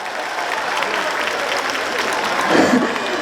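Audience at an outdoor Korean festival concert applauding the city mayor, a steady wash of clapping with crowd voices and some laughter throughout.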